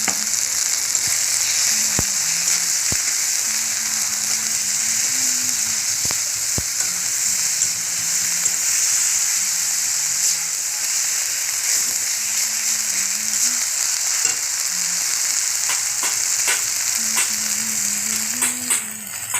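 Spice paste with salt and turmeric fries in oil in a pan for ghugni, a Bengali dried-pea curry, making a continuous close sizzle with scattered crackles and soft stirring scrapes throughout, with no talk.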